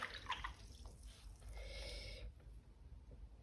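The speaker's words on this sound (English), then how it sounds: "Rinse out the brush," A watercolour paintbrush swished and rinsed in a pot of water, giving a short burst of soft splashing and dripping that fades after a couple of seconds, close and fairly quiet.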